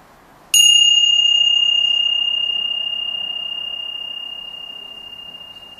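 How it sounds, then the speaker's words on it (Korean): A meditation bell is struck once in a quiet room, giving a sharp bright strike and then a pure sustained ring that fades slowly over several seconds. "종소리를 한번 끝까지 들어보세요."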